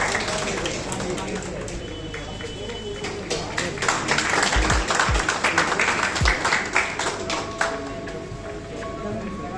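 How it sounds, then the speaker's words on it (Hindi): An audience at a cancer centre's foundation day ceremony claps in welcome, a loose scattered patter of hands running throughout, with a speaker's voice talking over it and a few heavy thumps. "तालियों से स्वागत है"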